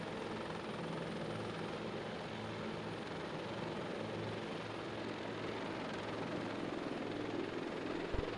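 A military helicopter in the video game Arma 2 produces a steady, unbroken rotor and engine drone that stays constant and fairly loud throughout, with no voices.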